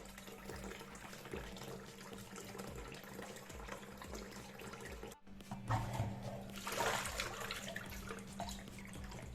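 Saltfish rinsed under cold running tap water, a steady faint trickle and splash that cuts off briefly midway, then returns as a louder, fuller gush.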